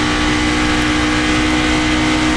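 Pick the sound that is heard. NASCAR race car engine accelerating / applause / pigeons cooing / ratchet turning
NASCAR race car engine accelerating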